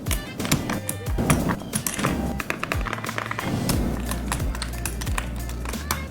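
Full metal anodized keycaps on a keyboard clatter in a fast, continuous run of close, bright clacks and taps, with no one speaking.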